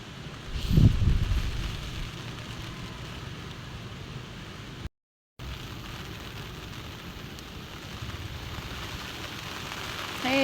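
Steady rain hisses down heavily, with a low rumbling thump near the start.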